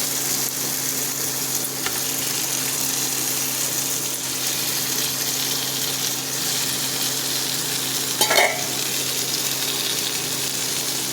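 Cauliflower frying and being stirred into a cooked-down spice paste in a pan gives a steady, close sizzle and hiss throughout, with a brief louder scrape or splash of stirring near the end.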